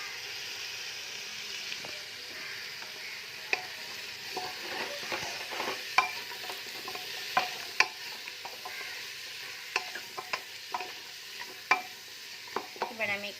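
Vegetables sizzle in melted butter in a pot for chicken soup, a steady close frying hiss broken by frequent sharp clicks and taps of stirring, with no talking.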